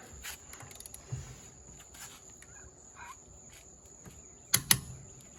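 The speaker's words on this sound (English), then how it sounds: "So now Thomas is going to torque these lug nuts to 80 foot-pounds." A torque wrench tightens lug nuts on a Honda Accord to 80 foot-pounds: two sharp, close metallic clicks near the end, after a stretch of faint ticking and handling noise.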